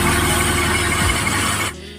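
A lathe cuts the inside of a two-stroke cylinder head mounted on a chuck adapter, a steady close machining whir with a low rumble that cuts off near the end.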